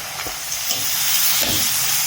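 Potatoes for Telugu aloo fry sizzle in hot oil in a pan, a steady close hiss and crackle with a few soft stirring scrapes, no voices.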